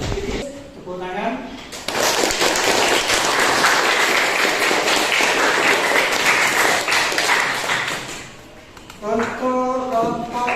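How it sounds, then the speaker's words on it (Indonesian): A classroom bursts into sustained applause, many hands clapping loudly for about six seconds before fading, with a teacher's voice speaking briefly before and after the clapping. "Tepuk tangan."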